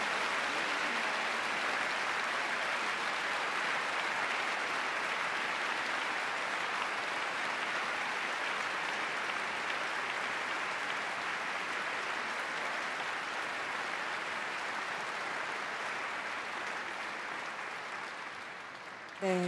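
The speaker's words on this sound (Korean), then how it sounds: "큰 박수로 환영하고 격려하겠습니다" Long, even applause fills Lotte Concert Hall during an autumn church radio concert, a thick, continuous ovation from a large audience that holds steady for nearly twenty seconds before easing slightly at the end.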